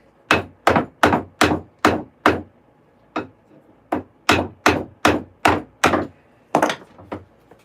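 Nails are driven into hickory chair parts and a tenon with about fourteen sharp, loud hammer blows, struck in quick runs with short pauses between them.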